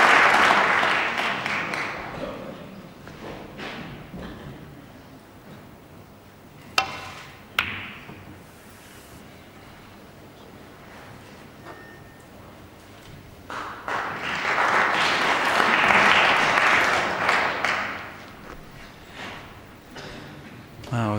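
A packed crowd at the 2006 UK Championship snooker final, Peter Ebdon against Stephen Hendry, applauds loudly at the start, fades to a quieter murmur with a couple of sharp knocks, then swells into a second sustained round of clapping.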